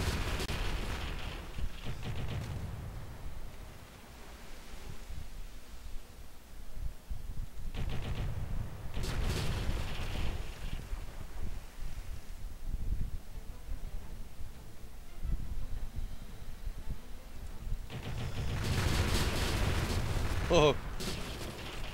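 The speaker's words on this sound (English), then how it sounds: "What the hell are you shooting on that side for?" Cannon and gunfire from a pirate video game, Pirates of Black Cove, roll in a few low, rumbling bursts spread across a stretch of background noise, and a voice briefly exclaims.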